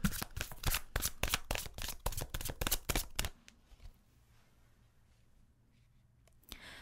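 Tarot cards shuffled in a rapid run of crisp riffling flicks for about three seconds, then near quiet with a single soft card snap near the end, with no talking.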